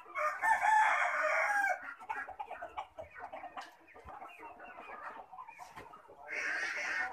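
Kadaknath chickens cluck and a rooster crows nearby, loud at the start and again near the end, with busy farmyard fowl noise in between.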